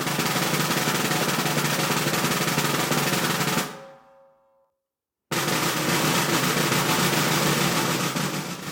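A dense, continuous snare drum press roll with strokes not overlapping buzzes loudly, stops abruptly into a second of silence, then resumes just as dense and steady.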